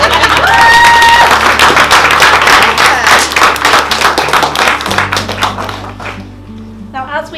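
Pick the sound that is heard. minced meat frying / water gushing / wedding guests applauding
wedding guests applauding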